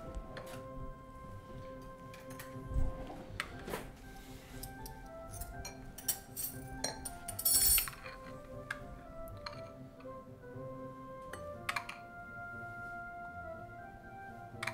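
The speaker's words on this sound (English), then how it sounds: "I'm just gonna spoon the cream over top" Spoons clink against cups and glass while cream is spooned over frozen blueberries, giving scattered light taps and small chimes close by with quiet pauses between them and no talking.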